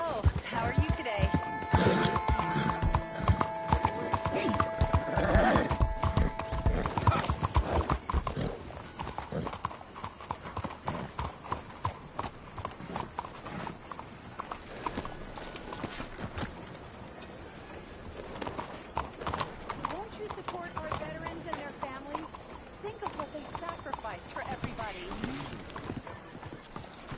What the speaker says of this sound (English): ¡Arre, caballo!